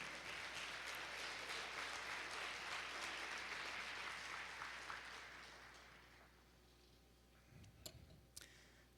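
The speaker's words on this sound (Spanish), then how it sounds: "Dale un aplauso al Señor." Congregation applause at a Spanish-language church sermon, a dense wash of clapping for about six seconds that fades into quiet room sound with a few scattered claps.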